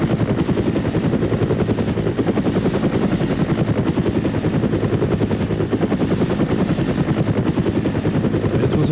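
Constant loud thumping of helicopter rotor blades with engine whine in the game ArmA: Cold War Assault, steady and unbroken throughout.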